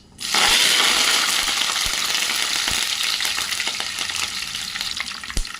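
Green chilies and curry leaves hit hot oil for lemon rice. The oil bursts into a loud crackling sizzle that slowly eases, with occasional metallic clinks of a stirring spoon against the pan.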